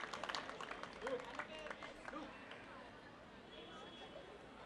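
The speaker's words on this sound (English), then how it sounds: "Let's hear a nice round of applause for Air Vice Marshal Fernandez." A crowd at an anniversary event claps for an Air Force officer, faint scattered applause with crowd murmur that tapers off after about two seconds into low room noise.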